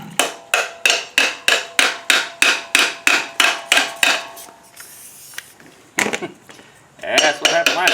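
Rapid metallic hammer strikes on a 1965 Ford Mustang brake drum while its nuts are loosened, about fourteen evenly spaced loud hits, then a pause with faint rattling and a final burst of sharper blows.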